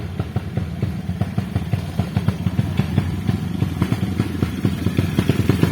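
A motocross motorcycle engine on a hillside dirt trail buzzes with a rapid, clattering pulse, steady and moderately loud throughout with no voices over it.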